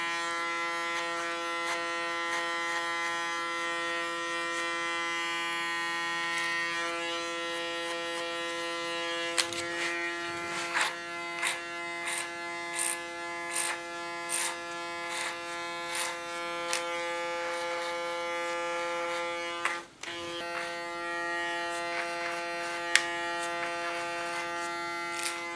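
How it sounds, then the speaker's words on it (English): An electric hair clipper buzzes steadily and close, used like a comb against the skin while cutting a short asymmetrical blonde women's haircut, with a rhythm of brief clicks and small bursts as it touches the hair. "Using my clipper as a comb, leaning on the skin"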